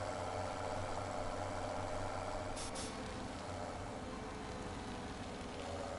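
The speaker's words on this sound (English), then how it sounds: "Does look the business, does that tractor and trailer, I've got to admit." A tractor engine idles in the Farming Simulator 2017 game, a steady low diesel rumble running continuously with a brief hiss partway through.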